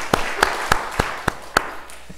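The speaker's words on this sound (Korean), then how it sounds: "자, 우리 박수 한번 칩시다" Congregation clapping during a Korean church service on Parents' Sunday; a slow, steady series of about seven distinct, evenly spaced claps that sound sparse rather than a full ovation.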